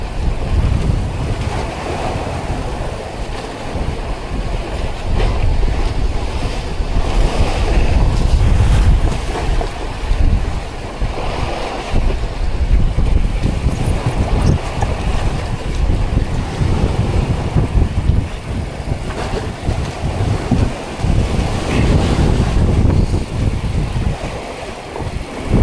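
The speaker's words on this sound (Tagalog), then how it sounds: "Maalon ang karagatan mga amigo. Karagatan ay maalon ngayon. Habagat ang hangin." Rough Pacific Ocean at dawn with heavy waves crashing and strong southwest monsoon wind buffeting the microphone aboard a tuna fishing boat, a loud, continuous roar rising and falling throughout, no voices.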